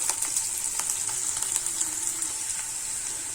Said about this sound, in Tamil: பூண்டு கலர் சேஞ்ச் ஆகிற வரைக்கும் வதக்கிக்கலாம்.